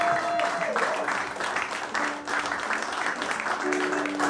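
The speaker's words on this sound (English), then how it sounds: "give these guys a round of applause" An audience at a Focal Point folk concert applauds the musicians, a continuous wash of clapping with sustained tones and some talk mixed in.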